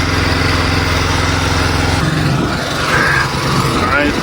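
A gas-engine pressure washer runs steadily while a building is washed outside a local restaurant, its loud engine drone holding for about two seconds before giving way to a rougher, shifting spray and motor noise, with faint talk underneath.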